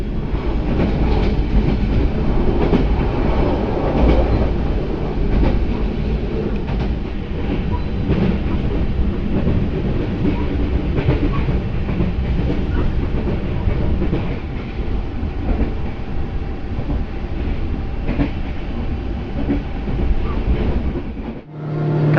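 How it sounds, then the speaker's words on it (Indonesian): The Purwojaya passenger train in Indonesia rumbles steadily along the rails with a continuous clatter from the wheels, loud and close throughout, fading slightly at the very end. "Kereta api Purwojaya masuk stasiun Bumi Ayu"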